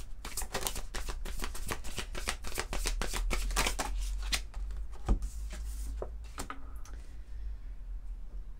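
Tao oracle cards being shuffled in a rapid, close riffling patter that thins out toward the end, followed by a single soft snap as a card is drawn.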